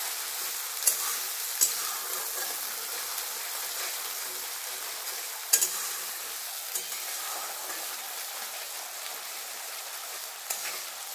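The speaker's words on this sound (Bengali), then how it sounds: "ওই পেস্টটা ভালোভাবে কষিয়ে নেব।" Spice paste being fried and stirred in a pan for a vegetarian matar paneer without onion or garlic, with a steady close sizzle and a few sharp scrapes of the spoon, no voices.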